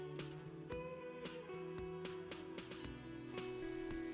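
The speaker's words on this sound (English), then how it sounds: "Oh, it's raining." Rain falling in the video game Disco Elysium, a soft patter with scattered drop clicks over a quiet tonal ambient background, with no talk.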